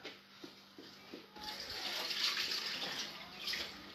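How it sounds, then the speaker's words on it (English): Water pours out of a pot of chopped potatoes into a kitchen sink, beginning with a few faint knocks and then a steady, quiet splashing rush that lasts to the end. "Actually, I need to drain that water first."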